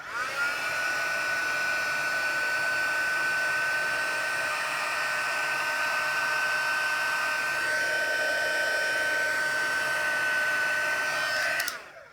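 Heat tool melting embossing powder for stamped card making, a steady, close whirring blower hum with a high whine, running continuously for about twelve seconds before cutting off abruptly.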